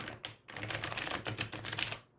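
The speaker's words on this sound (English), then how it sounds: "Riffle shuffle." A quick riffle shuffle of tarot cards, a close, dense fluttering burst lasting about two seconds.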